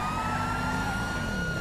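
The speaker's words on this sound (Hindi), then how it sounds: "ये रही पुलिस की गाड़ी" Police car siren in the video game GTA, sounding steady and loud over a dense wash of traffic and engine noise, with no talking.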